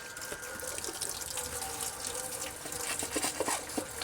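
Hot water running from a kitchen sink tap for dish washing, a steady close splashing rush with small drips and gurgles throughout.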